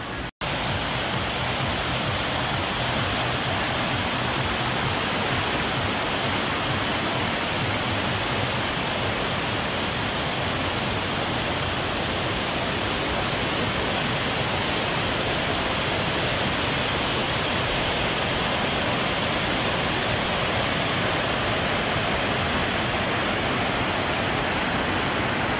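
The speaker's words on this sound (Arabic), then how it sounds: "شلالات وأنهار وطبيعة" Rushing river and waterfalls in a Bosnian nature area, a dense, steady roar of flowing water that holds constant and close throughout, with no voices.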